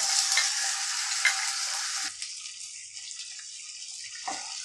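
A loud, steady sizzle from a hot pan as garlic-ginger paste is stirred, with a few scraping knocks, then the frying quiets to a softer hiss.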